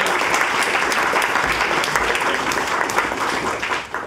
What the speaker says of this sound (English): So huge round of applause for you.